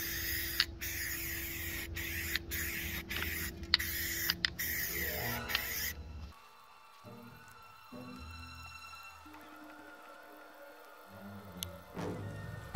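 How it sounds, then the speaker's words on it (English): A spray can primes a diorama box with camouflage green paint: several short, close hissing bursts in quick succession, followed by quieter ticking and faint background noise. "Moving on to painting the diorama box, I'm priming it with a camouflage green."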